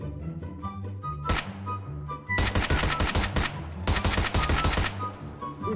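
Gunfire in PlayerUnknown's Battlegrounds: a single sharp shot, then two long bursts of rapid automatic fire, loud and close, with a short lull between them and game music running underneath.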